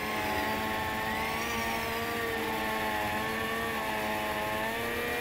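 A helicopter in the video game Call of Duty Modern Warfare, its rotor and turbine producing a steady loud droning whine with tonal hum, close and continuous without talk.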